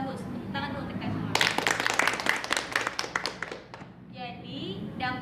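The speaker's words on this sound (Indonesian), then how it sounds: "Tepuk tangan dulu untuk kalian semua" Students in a classroom group counseling session break into a short burst of hand clapping lasting a few seconds, rising over softer background voices and then fading back into talk.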